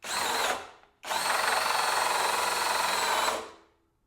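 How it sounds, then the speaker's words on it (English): A Skil 12V PWRCore compact drill, overheating under load, runs in a brief loud whirring burst, pauses, then drives a longer steady, harsh whine for a few seconds before winding down, close up with no talking. "It's a 12-volt drill."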